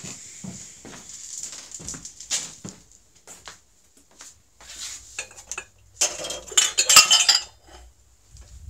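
A teapot and mug are handled while tea is made, giving scattered clinks and knocks of ceramic and metal that build into a busier cluster of clatter near the end, close by and with no talking.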